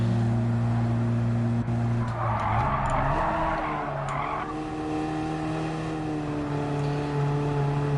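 A race car on soft racing tyres in Gran Turismo 7 drones loudly with a steady engine note, swelling into a screech of skidding, squealing tyres midway before settling back to a sustained hum.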